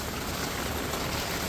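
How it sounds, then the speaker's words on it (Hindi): Heavy torrential rain during a storm in Nainital pours in a dense, unbroken hiss, loud and steady throughout, with no voices. "इस मूसलाधार बारिश ने ना कलेश मचा दिया भाई सच में।"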